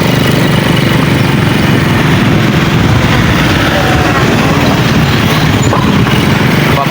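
Many motorcycles wait at a port for an arriving ship, their engines idling in a loud, constant, rumbling drone that fills the scene with no pauses.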